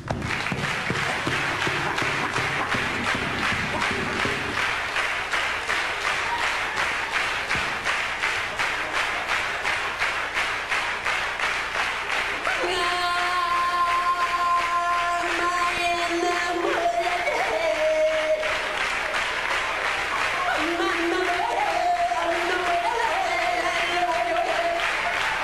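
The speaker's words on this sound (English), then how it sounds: "Come on, clap your hands, I'll do one of the song." A stand-up comedy audience claps in a steady, even beat along to a song, the rhythmic claps filling the room throughout while sustained melodic tones join in the middle and again near the end.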